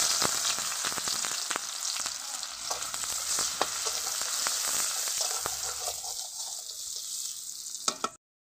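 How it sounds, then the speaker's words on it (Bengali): Chopped onions for potato bhaji sizzle steadily in a pan, dense crackling with scattered sharp pops, fading slightly before cutting off abruptly. "এখন আলু ভাজি করবো, তার জন্য পেঁয়াজ কুচি দিয়ে দিচ্ছি"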